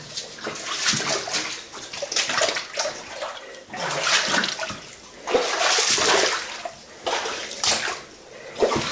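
Fresh water runs and splashes steadily through an underground tunnel beneath the English Channel, a continuous close, bright flowing wash that swells and dips, with occasional slosh.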